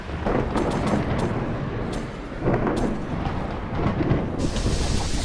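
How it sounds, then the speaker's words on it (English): Thunder and lightning strikes in RLCraft, a Minecraft modpack, rolling as loud rumbles with sharp crackling bursts near 0.6, 2.7 and 4.4 seconds over continuous low storm noise. "Apparently spawning lightning, that's for sure."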